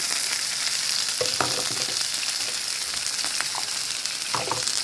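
Broccoli, tomato and other vegetables fry in hot oil for vegetable noodles, giving a dense, even sizzle, close and loud, with a few stirring knocks.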